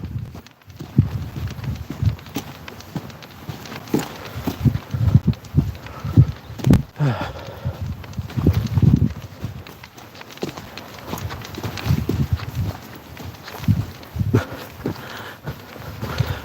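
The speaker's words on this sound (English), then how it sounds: "at least we should be able to get past some of these cows." Cattle plod past on a footpath, their hooves giving a run of dull, uneven thuds and scuffs at close range that continue steadily with no talking.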